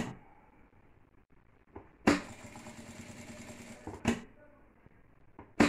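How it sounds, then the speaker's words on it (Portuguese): A sewing machine runs in two bursts of stitching along the edge of fabric for a small half-moon zippered pouch, each run lasting a couple of seconds with a clear start and stop against quiet room tone. "Vai costurando na beiradinha primeiro."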